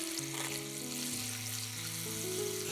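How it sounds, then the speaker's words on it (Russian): An electric mixer whips egg whites with a pinch of salt, giving a steady whirring motor drone with shifting tones and a wet frothy hiss throughout. "К белкам добавляем щепотку соли и начинаем взбивать."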